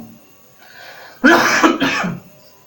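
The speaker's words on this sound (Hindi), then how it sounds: "थोड़ा गला सूख रहा है भाई, इसलिए खांसी आने लगी।" A man coughs from a dry throat, a short burst of two loud harsh coughs close to the microphone after a quiet pause, then fading back to near silence.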